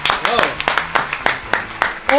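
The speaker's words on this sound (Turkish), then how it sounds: "alkışlayalım beraber" Quick, evenly spaced hand claps ring out roughly four times a second, close and sharp, with a voice speaking over them.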